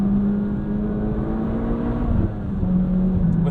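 A 2008 Mitsubishi Lancer Evolution X GSR engine runs steadily and close, with a smooth rising tone, then a slight under-blipped throttle blip on the rev-match downshift near the end; no talking.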